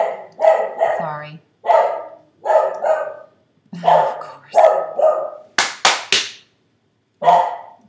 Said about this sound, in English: here goes the dog